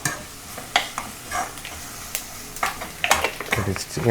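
Fennel seeds dropped into hot oil in a pan with ginger-garlic paste, crackling and sizzling in short bursts while a spatula stirs and scrapes; voices talk in the background.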